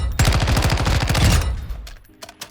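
Automatic weapon fire at the firing range in Modern Warfare II, a loud, rapid burst of evenly spaced shots lasting over a second, then a few scattered fainter clicks and handling sounds.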